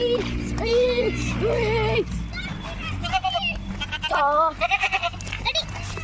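Sheep bleat in rural grazing country, several wavering cries close by, with voices and chatter of people in the background.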